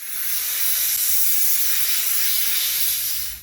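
Compressed air, kept under 30 psi, blasting through the air filter of a Honda GC190 PowerBoss pressure washer, a loud continuous close hiss held steadily for a few seconds with no talk.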